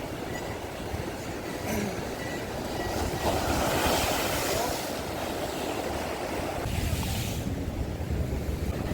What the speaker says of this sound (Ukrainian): ви бачите, як хвилі. Вони дійсно, начебто, грають якусь симфонію.